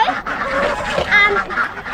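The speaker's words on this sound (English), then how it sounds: "going to feed my ducks. They're very noisy right now." A flock of noisy farm ducks quacks loudly and continuously at close range, with overlapping raspy calls filling the moment.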